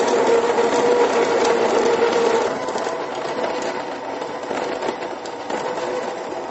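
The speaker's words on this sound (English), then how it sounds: "We're going to grind it in our burr grinder here at a fairly coarse grind." Burr grinder grinding coffee beans at a coarse setting: a steady, close mechanical whirring grind that is louder at first and then settles to a slightly quieter, even drone.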